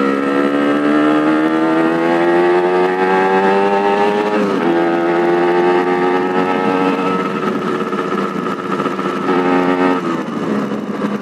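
A Yamaha RX-King two-stroke motorcycle rides along a city road, its engine a loud, buzzing drone that rises steadily in pitch, dips briefly as the rider shifts, then climbs again.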